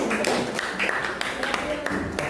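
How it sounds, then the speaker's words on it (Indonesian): Students in a classroom give a short round of scattered, light applause for a classmate, with sparse individual claps over low background murmur. "Oke, tepuk tangan dulu untuk Najib."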